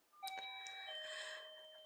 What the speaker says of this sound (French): vous entendez la sonnette qui se met en route